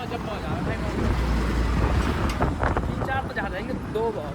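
A motorcycle rides along a hill road in the Aravalli Hills, with steady rumbling engine noise under heavy wind buffeting on the microphone and people talking briefly over it.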